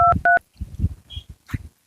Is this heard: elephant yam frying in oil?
no